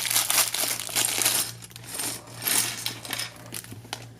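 Small plastic LEGO Advent calendar pieces clatter and rattle, with bags crinkling as parts are tipped out and sorted up close, over a faint steady hum.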